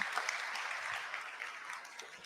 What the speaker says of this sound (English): Let's give Amanda a round of applause for joining us today.